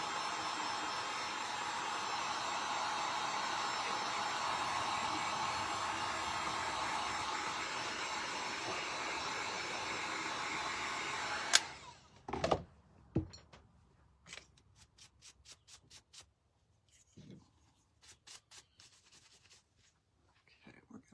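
Hair dryer blowing steadily at close range for about eleven seconds while drying seafoam green paint on a Dollar Tree glass jar, then cutting off, followed by faint scattered clicks and handling sounds.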